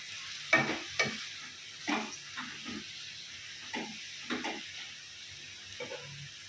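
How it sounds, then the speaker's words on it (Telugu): Coriander leaves frying in a pan for coriander chutney, a quiet sizzle broken by a series of spatula scrapes and stirs in an irregular rhythm, heard close with no talk. "ఇది కొత్తిమీర ఫ్రై చేస్తున్నాం."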